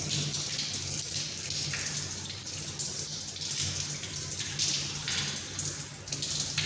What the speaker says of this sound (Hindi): बस ऐसे धो के और मोटा मोटा गोश्त डालते हैं।